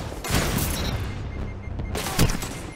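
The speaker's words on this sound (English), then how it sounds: "I might activate golden gun just so I can secure the win here." Golden Gun super firing in the Destiny video game, a loud close burst of sharp gunshots with booming impacts, a dense volley early and another strong blast near the end.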